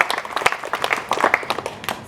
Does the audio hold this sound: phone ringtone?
no